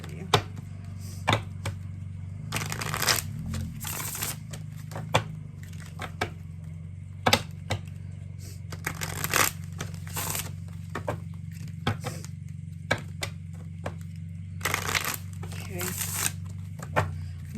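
Tarot cards are shuffled and drawn in short bursts of riffling and snapping, set apart by pauses, while a voice talks quietly throughout.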